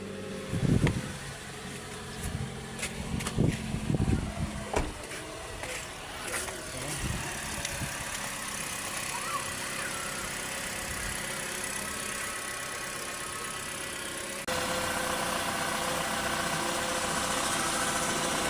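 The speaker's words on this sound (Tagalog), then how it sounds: "Then ato siyang pandaron ang makina guys." A car engine turns over with a few clattering knocks, then settles into a steady, rumbling idle that continues close by.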